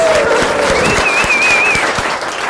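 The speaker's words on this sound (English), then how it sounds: "A round of applause." A crowd at an outdoor plant fair in Kariong claps steadily in dense, continuous applause, with a whistle rising over the clapping partway through.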